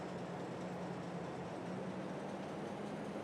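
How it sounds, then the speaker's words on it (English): A train driven in Farming Simulator 22 hauling sugar beet gives a steady, continuous rumble with a low hum, running evenly throughout with no voices. "Who doesn't love playing and driving a choo-choo train?"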